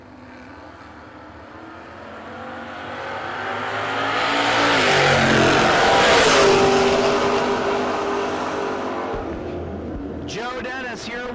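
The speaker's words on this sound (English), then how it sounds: "Probably the fastest car on property." A drag race car at a no-box drag race accelerates past, its engine roar swelling to a loud peak then fading into the distance, with an announcer talking over the public address.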